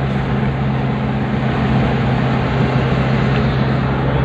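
A 2000s-style Mitsubishi Pajero with an automatic gearbox that won't shift into fourth and a blinking A/T light, its engine straining and groaning at about 2000 RPM: a loud, steady, unbroken drone with a low hum underneath.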